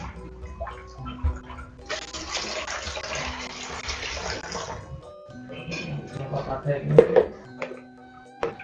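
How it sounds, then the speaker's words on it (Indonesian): Water is poured back into a pipe distribution system test rig after the pump is switched off, a steady splashing gush for about three seconds with clinks and handling noises around it. "Oke, kita masukkan lagi airnya ke sini"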